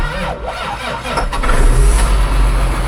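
A farm tractor with a failing starter cranks and its engine catches, a low mid-pitched churn building into a steady, louder running rumble close by.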